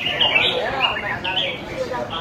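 A songbird in a bird-singing contest chirps and whistles in quick, bright phrases, close and clear, with an announcer's voice in the background.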